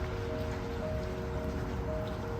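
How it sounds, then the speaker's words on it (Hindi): Light drizzle falls steadily outdoors on a cold, windless day, a soft constant hiss with faint patter and no distinct drops, alone without talk. "इस समय भी रिमझिम बारिश हो रही है।"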